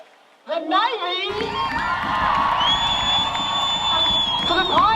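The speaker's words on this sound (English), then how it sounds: "The crowd is given voice to determine the winner. Let's hear it up for the Navy," A crowd cheers loudly for the Navy team at a staged competition, rising from near silence into sustained shouting, whooping and whistling that holds steady and close, with an announcer's voice briefly at the start.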